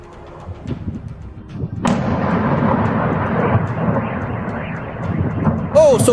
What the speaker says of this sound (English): Here, a drone is flying by.